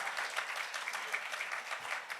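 Steady applause from a room of journalists at an awards press conference, a dense even patter of many hands held at a fairly quiet level with no pauses.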